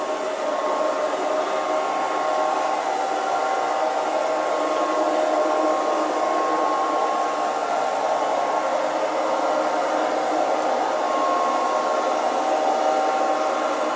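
Liectroux B3000 robot vacuum cleaner running on a hard floor, a steady whirring motor drone with faint tonal hum, constant in level and close by, no voices.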